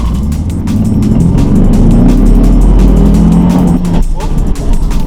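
A Ford Mustang engine revs hard and close in first gear, pulling up in pitch as it accelerates, loud and throaty with road noise underneath.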